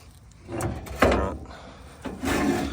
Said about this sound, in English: It is a very snug fit to get the door open.